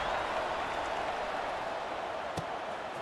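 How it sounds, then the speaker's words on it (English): Steady stadium crowd buzz from a college football video game, a broad continuous roar with a brief sharper burst near the end, heard alone. "this crowd is buzzing after that last score"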